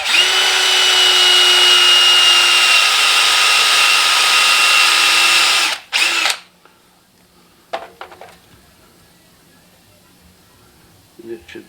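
A piece of 3/32 welding rod used as a drill bit, spun by a power drill to bore a hole for an ornament display stand: a loud steady high whine for about six seconds, then stopping, followed by faint clicks and handling.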